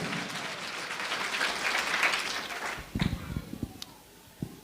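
A church congregation applauds loudly for a few seconds. The clapping thins out into scattered claps, and the room noise and a few voices carry on after it.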